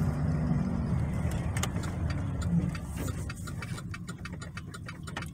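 A GMC truck's turn signal clicks in a steady, regular rhythm inside the cab, faint over the low hum of the running engine, becoming more distinct toward the end.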